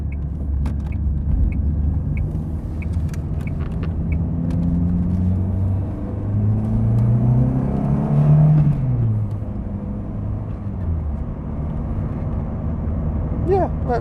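A Volvo 480 on an open road gives a steady engine rumble and road noise from inside the cabin, with a brief swell around the middle, under occasional talk.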